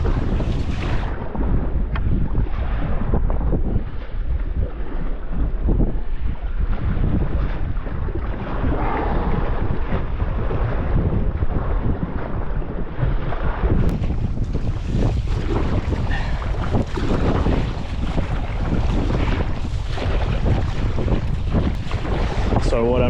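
Strong wind roaring across the microphone while sea kayaking in an Advanced Elements AirFusion inflatable kayak, with waves slapping and splashing continuously, loud and buffeting throughout.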